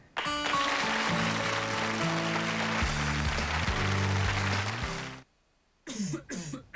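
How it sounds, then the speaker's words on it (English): After a loud, steady stretch of sound and a brief silence, a congested man coughs a few harsh times close by. "He's coughing, all stuffed up."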